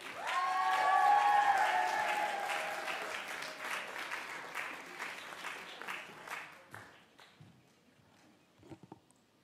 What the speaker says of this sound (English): Let's give a big round of applause for Alexandra Redamiel.